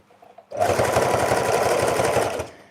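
A sewing machine stitches jelly roll fabric strips for a rug, starting abruptly after a faint quiet moment and running steadily at close range with a fast, even mechanical chatter for about two seconds before stopping.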